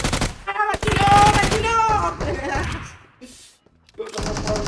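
Video game gunfire crackles in rapid bursts for most of the moment, loud and close, fading briefly near the end before resuming, with voices talking over it.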